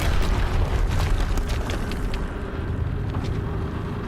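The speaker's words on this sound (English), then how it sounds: "Explosions, explosions. Sound like a big monster to me." Explosions and heavy combat rumble in the video game Horizon Zero Dawn, several booming bursts over a dense, loud roar that eases slightly toward the end, without speech.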